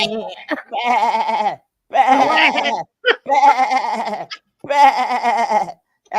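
A voice imitates a sheep's bleat in several wavering, nasal bursts separated by short pauses, close and loud.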